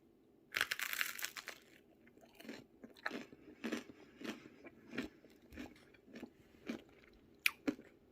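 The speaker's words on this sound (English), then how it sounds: "I put this in the air fryer. You have to hear this crunch, okay?" Crunchy air-fried bread and butter chicken being bitten into and chewed, a loud first crunch followed by a steady rhythm of close, crisp chewing bites with no talking.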